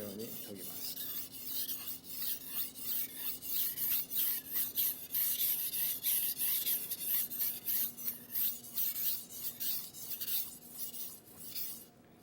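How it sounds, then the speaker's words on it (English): Japanese slicer knife drawn steadily across a whetstone in a long run of quick, even rasping strokes, close and bright, with no speech over the grinding. "Sharpen the top side of a slicer the same way as a chef knife."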